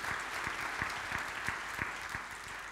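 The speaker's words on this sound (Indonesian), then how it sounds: "tepuk tangan buat Yesus" A church congregation at a Sunday worship service claps in unison, hands striking in a steady rhythmic beat about three times a second, moderately loud and continuous.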